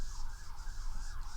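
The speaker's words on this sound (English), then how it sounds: "That's an ambulance." An ambulance siren wails in a steady repeating rise and fall, moderately distant and fairly faint, with low road rumble underneath.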